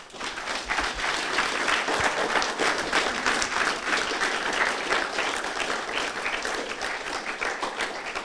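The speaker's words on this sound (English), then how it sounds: "Can we give everybody a massive round of applause?" A large audience at a manufacturing event for young people in Leeds gives the panel a big round of applause, dense, loud and sustained clapping throughout.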